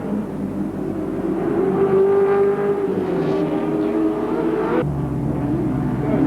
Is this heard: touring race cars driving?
yes